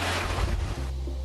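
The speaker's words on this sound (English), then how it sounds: "Take a look at the waves crashing inside this home in North Topsail Beach." Hurricane surf surges and crashes inside a beach home at North Topsail Beach, a loud churning wash of water with a low rumbling undertone that eases off after a moment.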